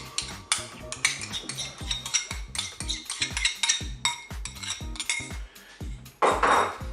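A utensil stirs salad piémontaise with a yogurt mustard sauce in a bowl, giving close, rhythmic clinks and scrapes against the bowl with soft wet mixing between strokes and no talking.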